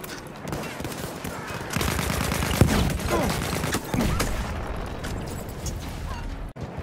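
Rapid automatic gunfire from a weapon in the video game Battlefield 1, loud, sustained bursts of shots running through most of the stretch with a few sharper bangs.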